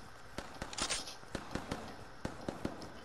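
Distant video game gunshots pop sharply and irregularly, a scattered series of faint, brief cracks spread across a few seconds with no talking.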